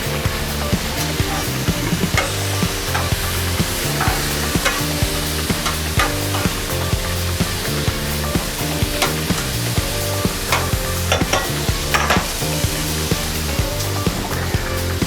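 Mushrooms and onions fry in a pan after chicken cooked for a red wine dish, giving a loud, continuous sizzle with frequent scraping stirs and small clinks, close up, no voices.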